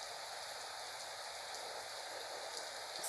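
Rain falls steadily in a thunderstorm, a soft, even hiss of drops pattering on surfaces, constant and fairly faint with no voices or thunder rising above it.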